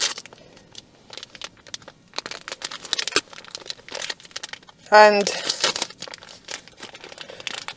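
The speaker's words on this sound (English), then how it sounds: "Oh, I do have a napkin." A paper napkin crinkles and rustles in several quick bursts inside a car, with someone talking over parts of it.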